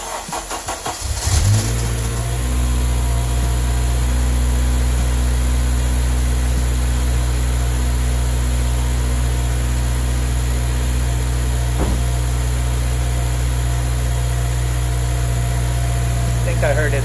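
A Honda Civic Si sedan (FA5) engine cranks and catches near the start, then settles into a steady, close idle that holds for the remainder with little variation.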